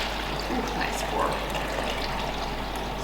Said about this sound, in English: I'm going to transfer the tea to a liter cup.